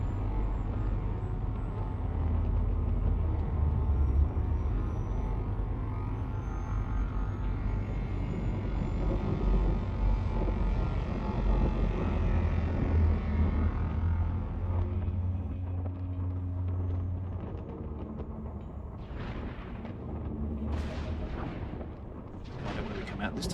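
A spaceship's hyperspace jump in the video game Elite Dangerous roars as a dense, rumbling surge that swells and holds for most of the stretch, then thins out into sharp crackling bursts near the end.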